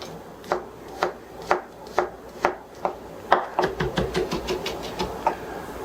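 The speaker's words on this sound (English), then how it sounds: "Meanwhile, we'll get some garlic ready. Smash it and peel it." Garlic cloves are smashed and chopped with a knife on a cutting board, a series of sharp thuds at a steady pace that quicken into rapid chopping near the end, close and clear.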